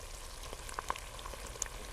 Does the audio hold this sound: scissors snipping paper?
no